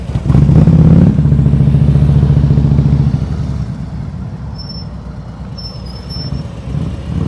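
A motorcycle engine loud and close during slow-speed riding practice in Florida, a steady low idle drone with a rising throttle blip early on, then a quieter running rumble with faint high whistles over it.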